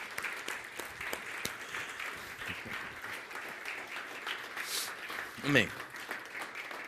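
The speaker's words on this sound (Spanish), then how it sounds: "Ahora sí que le puedes dar un aplauso al Señor." A church congregation applauds steadily for several seconds, a dense patter of many hands heard under a speaking voice, ending with a brief louder burst near the close.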